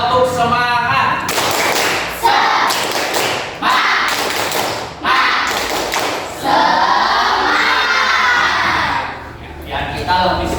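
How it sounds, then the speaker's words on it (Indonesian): Schoolchildren in a classroom perform the 'tepuk semangat' clapping chant, with rhythmic bursts of clapping and shouted chanting in several loud, close rounds separated by brief pauses. A teacher speaks at the start and end. "kita tepuk semangat terlebih dahulu, ya. Tepuk semangat."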